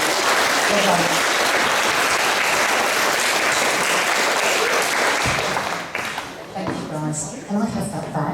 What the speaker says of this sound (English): let's give Macquarie a big round of applause